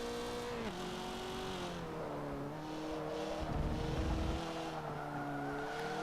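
A Mazda 3 in third gear climbs uphill on a race track, its engine a steady droning hum that shifts slightly in pitch, with a brief rougher surge partway through and no talking.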